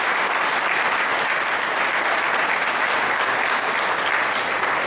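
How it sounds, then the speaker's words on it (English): A crowd at a state behavioral health commissioner's address breaks into loud, sustained applause, a thick even roar of clapping filling the whole stretch with no voices above it. "So round of applause there"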